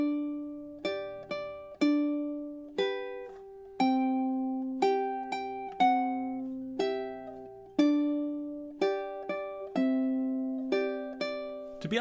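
A ukulele plays the first three bars of the Waltzing Matilda B melody, measures 11 to 13, moving up the neck while letting open strings ring. Bright plucked notes and chords follow one another in a relaxed rhythm, close and alone.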